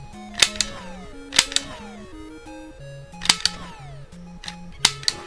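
Sharp retro 8-bit gunshots from the NES shooting game Barker Bill's Trick Shooting, fired in spaced pairs of bright crackling bursts over a steady chiptune melody with descending blips, with no talking.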